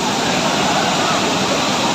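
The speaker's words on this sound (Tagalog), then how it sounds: "maingay yung tubig na nagagaling sa taas" Water from Taytay Falls in Majayjay, Laguna pours down from above in a loud, steady, broadband roar that stays constant throughout, close and dense with no breaks.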